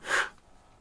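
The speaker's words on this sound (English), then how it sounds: "I need to sneeze." One quick, breathy sneeze from a man, a short sharp burst of air lasting a fraction of a second, close and moderately quiet.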